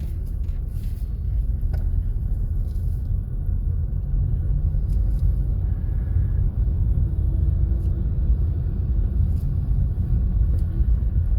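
A car pulling away over a speed bump during a driving lesson: steady low engine and road rumble from inside the cabin, continuous and even throughout, with no talking.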